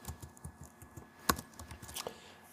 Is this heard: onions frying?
no